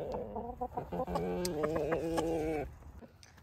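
Backyard chickens, including a Plymouth Barred Rock hen, cluck in a close, busy run of rhythmic calls for a couple of seconds before quieting down, with no talk over them.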